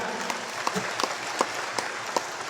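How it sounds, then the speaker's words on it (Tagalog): Applause from the audience at a moving-up ceremony, a short burst of crowd clapping with a few sharp, distinct claps standing out at an irregular beat, lasting about two and a half seconds. "Yung mga volunteer natin sa Kabaka, palakpakan natin sila."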